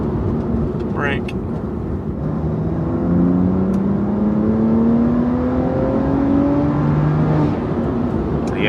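Inside a BMW M2 CS running a Carbahn Stage 2 piggyback tune, the engine revs and pulls through gears, a loud continuous cabin roar with several rising pitch sweeps and a brief crackle, while a voice speaks over it.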